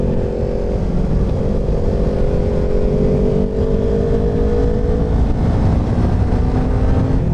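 Steady motorcycle engine drone while riding a hilly road near Melbourne, loud and continuous, with the pitch slowly shifting as it holds speed.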